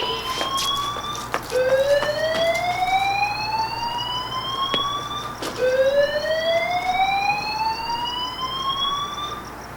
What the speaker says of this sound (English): Sound the alarms!